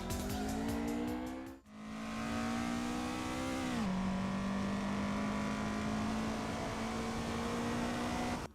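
Car driving the Akina downhill course in Assetto Corsa: a loud, steady engine drone near the listener, with a gear shift or lift-off dip around the second mark and pitch sweeping down mid-clip before settling into a sustained rising tone.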